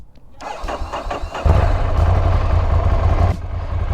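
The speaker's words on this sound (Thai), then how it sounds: "เราก็จะสตาร์ทรถกันเลยนะครับ โดยการกดปุ่มนี้" A motorcycle engine started with the starter button: a brief whirring crank, then the engine catches around the halfway point and settles into a loud, steady, close idle that drops off near the end.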